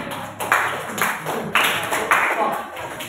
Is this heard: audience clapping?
yes